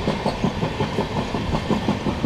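Kanchankanya Express running at about 130 km/h, a steady loud rumble from inside the train with rapid, regular clickety-clack of wheels over rail joints and no voices.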